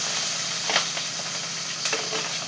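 A pot of fish curry boils on the stove, a steady close hiss of steam and bubbling with a couple of soft gurgling pops.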